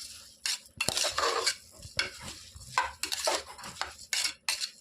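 A spoon stirs spice powder and salt into coconut rice in a metal pot, with repeated close scraping and clinking strokes in an irregular rhythm and no talk.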